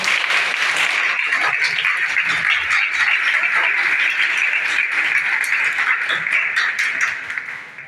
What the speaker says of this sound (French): Et pourquoi vous n'applaudissez même pas?